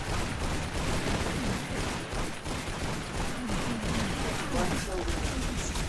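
Rocket launches and rapid gunfire from the arena shooter Toxikk crackle in dense, overlapping bursts with explosions, while someone talks over the chaotic firefight.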